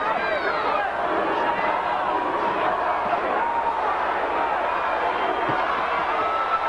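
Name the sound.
boxing arena crowd cheering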